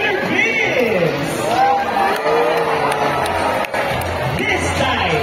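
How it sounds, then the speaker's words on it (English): Audience at a sea lion show for Rocky at Manila Ocean Park claps and cheers, with a crowd of applause and whoops mixed with an announcer's amplified voice talking over it. "Now round of applause for Rocky with Trainer Vince."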